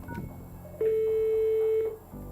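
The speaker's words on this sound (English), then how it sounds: "Once you hear that noise, you know that the intercom is initiated" Cisco 508 desk phone sounding its intercom initiation tone after dialing an extension: a single steady electronic beep lasting about a second, clear and moderately loud over faint room hiss.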